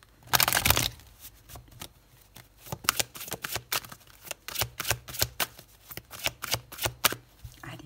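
Fourteen cards being laid out one by one for a tarot-style reading, a quick run of crisp slaps and flicks at close range with a brief shuffle-like burst at the start.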